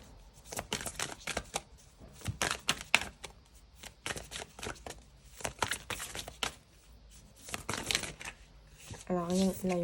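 Oracle cards shuffled and drawn by hand, a run of quick papery riffles and flicks close by, alternating with someone speaking French in between.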